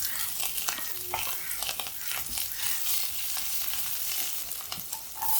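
Chopped onion, a small piece of ginger and three green chillies sauté in a hot pan, a steady close sizzle broken by repeated scraping stirs of a spoon.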